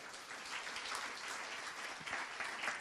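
A small audience applauds at a Nantes mash-up presentation event, a faint, even patter of clapping that holds steady throughout, heard from a distance.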